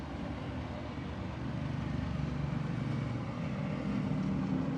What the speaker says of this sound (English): A procession of old motorbikes going by here.